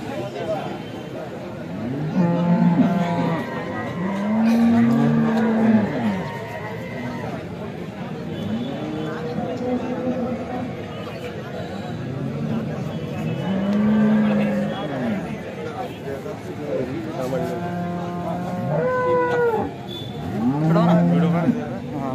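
Several cows moo repeatedly in drawn-out calls, some near and some farther off, amid a busy outdoor crowd at a cattle market in Alephata, Maharashtra, with people talking in the background.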